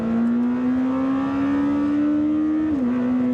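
A Lamborghini Temerario engine holds a loud, steady high-pitched drone that climbs slowly through the revs, then dips briefly near the end before settling again, with no talking over it.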